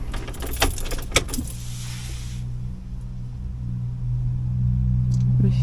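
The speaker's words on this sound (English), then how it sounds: "as soon as we turn the ignition back on" Car keys jangle and click in the ignition as it is switched on with a mini dash cam mounted, a brief metallic rattle at the start followed by a steady low engine hum that swells slightly toward the end.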